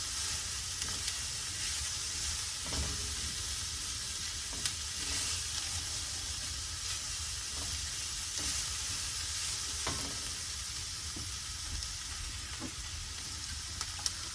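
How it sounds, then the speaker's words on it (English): Ground beef and onions sizzle steadily in a frying pan, a dense, even crackle close by, with occasional scrapes and taps of a spoon stirring through. "Give it a little bit of a stir."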